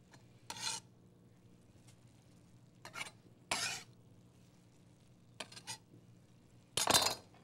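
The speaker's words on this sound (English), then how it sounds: "Give that a stir" A spoon scrapes and stirs food in a metal pot in a home kitchen, making five short, close, gritty strokes separated by quiet pauses, with no talking.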